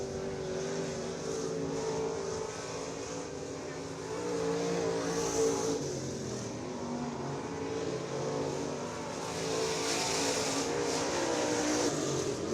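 A MARS late model race car roars around the dirt oval at Farmer City Raceway on a qualifying lap, its engine a sustained, surging howl that swells and fades as it circles the track.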